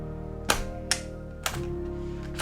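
Battery release on a Leica Q2 Monochrome camera: a few sharp mechanical clicks and snaps spaced about half a second apart, close and crisp over a low steady hum.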